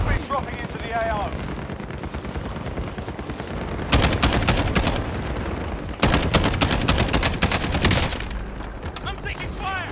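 Video game combat with helicopters: dense rapid automatic gunfire and heavy firing bursts fill the scene continuously, loud and close, with voices calling out underneath.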